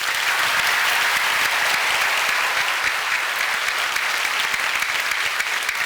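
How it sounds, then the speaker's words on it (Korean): A youth group audience at a church summer retreat breaks into sustained, dense applause, loud and even from start to finish with no talking over it. "박수 한번."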